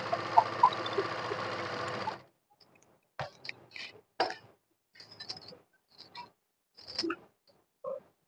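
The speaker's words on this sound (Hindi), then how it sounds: "आराम से दोस्तों इस तरीके से सिलाई करना है।" A sewing machine runs briefly while stitching a garment lining, a close, steady mechanical whirr for about two seconds, then stops and gives way to scattered light clicks, taps and handling noises of fabric and parts.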